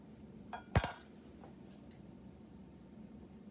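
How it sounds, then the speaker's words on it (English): A spoon gently stirs a liquid with beads in a glass container, making a couple of quick, close clinks against the glass before everything falls quiet. "We're going to stir gently so we don't move our beads."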